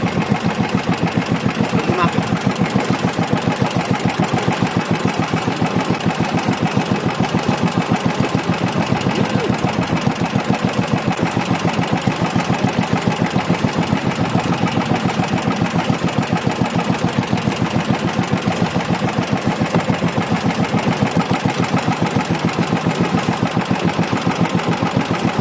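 A boat engine runs steadily at a constant pace for the whole stretch, loud and close, with a dense mechanical drone and no clear change in speed.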